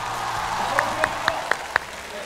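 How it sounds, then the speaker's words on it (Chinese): Audience applause at a televised street basketball competition, a steady crowd clapping in the background with a few sharp louder claps standing out, while a commentator talks over it. "这次掌声给到曹芳。"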